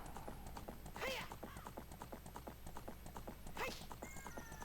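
Horse galloping in Zelda Ocarina of Time, with rapid rhythmic clip-clop hoofbeats throughout and two neighs or whinnies, moderately loud with quiet speech underneath.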